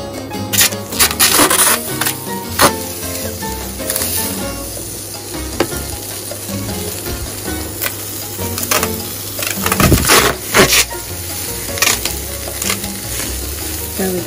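Fish fillets frying in a Salad Master electric skillet without oil, a loud continuous sizzle with sharp crackles and pops as pieces go in and are moved about, no talking.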